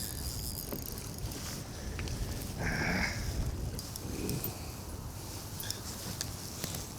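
Wind gusting over open water on a windy fishing trip from a small boat or kayak, a steady broadband rush with faint splashes and knocks, no talk.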